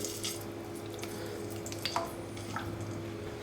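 A tablespoon of tomato paste being stirred into a little oil in a pan, with soft scraping strokes and a faint low sizzle underneath, quiet and close.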